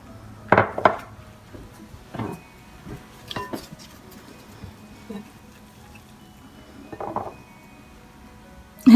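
Zalabia batter being mixed in a bowl as warm water is added gradually, giving a few scattered knocks and clinks of a utensil against the bowl with quiet gaps between them.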